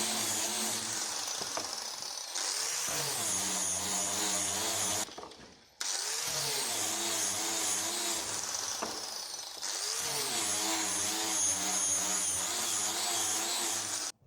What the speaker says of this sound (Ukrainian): Далі беремо болгарку, шліфувальну площадку та шліф-кружок.